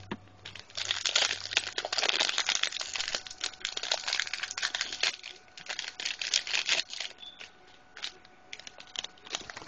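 Crinkly plastic wrapper of a 2015 Topps Heritage baseball card rack pack being ripped open by hand, with dense crackling and tearing bursts close up that thin out into scattered rustles.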